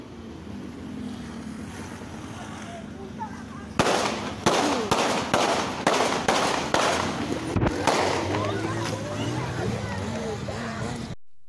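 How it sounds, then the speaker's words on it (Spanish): A rapid series of sharp gunshots, eight in quick uneven succession, rings out over low background traffic noise on a street. "Ocho segundos después se escuchan ocho disparos."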